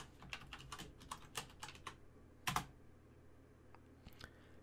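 Keys on a computer keyboard click in a quick irregular run as a password is typed, followed by one louder keystroke like the Enter key and a few faint taps after; the sound is soft and close, with no speech.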